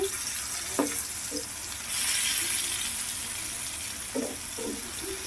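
Tomatoes for peanut chutney frying and softening in a pan give a steady, moderately loud sizzling hiss that runs through the whole stretch, with a few brief clinks and knocks of cookware over it.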